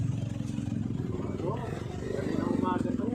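Motorcycles at a busy mall, a continuous low engine rumble with idling and some revving, close by, with people talking over it.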